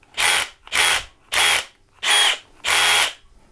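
Cordless drill set to low clutch and lowest speed, driving screws with nylon washers while rack-mounting audio gear, five short even whirring bursts separated by brief pauses, close and clear.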